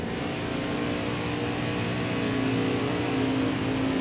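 Race car engine in NASCAR Heat 4, an Xfinity series car at Auto Club, droning steadily at high revs for the whole stretch, with a sustained buzzy roar and a slight rise in pitch near the end.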